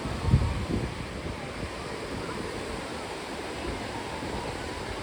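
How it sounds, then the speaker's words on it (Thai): Strong wind buffets the microphone in a broad, constant roar at Hat Nam Sai beach in Thailand, with surf washing in the background and a brief thump at the start. "ลมแรงดี"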